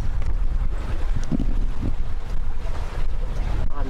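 Sailboat under two sails moving slowly offshore in light wind with a following current, giving a steady broadband rush of wind across the microphone and water washing along the hull, with no voices.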